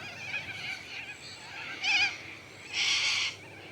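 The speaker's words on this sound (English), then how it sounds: "Gosh, those birds are noisy tonight." Birds calling noisily as they settle in for the evening late in the afternoon, with two louder bursts of chatter standing out over a steady background of distant calls.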